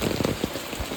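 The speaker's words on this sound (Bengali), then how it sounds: "এখন ভালো বৃষ্টি হচ্ছে জোরে।" Heavy rain pours down steadily, a dense close hiss of drops beating on surfaces with a few louder splashes, no voices.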